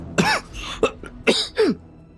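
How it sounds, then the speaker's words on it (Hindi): A man in an audio drama coughs loudly after inhaling toxic gas, with four or five harsh, dry bursts in quick succession, close and forceful. "वो जोर जोर से खांसने लगा"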